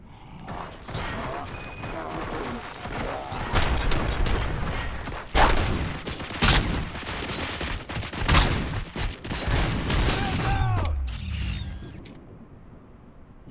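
Heavy gunfire in the video game RoboCop: Rogue City, with dense overlapping bursts and loud booming shots that keep going for several seconds, mixed with mechanical clanks and a little voice in the background.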